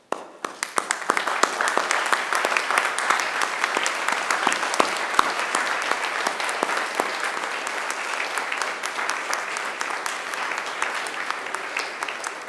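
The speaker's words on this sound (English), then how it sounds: "round of applause in thanks." Sustained, even applause from a large standing graduation audience thanking the graduates' supporters, with many distinct sharp claps running steadily through the crowd sound.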